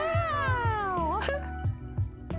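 A cartoonish cat meow sound effect plays during a stream, a long, gliding, descending wail followed by short rising mews. Soft rhythmic thumps and voices sit underneath.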